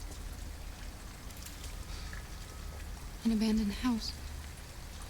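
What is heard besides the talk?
rain falling in video game Detroit: Become Human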